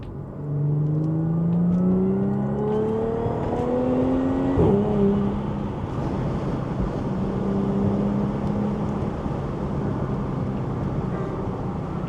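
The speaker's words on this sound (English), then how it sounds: "Quick downshift." A 400 hp Audi S4 engine revving through rising gears, then a sharp blip on a quick downshift before settling into steady cruising drone, heard from inside the car on an evening drive.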